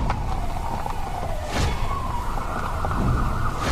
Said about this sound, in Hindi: एम्बुलेंस बुला जल्दी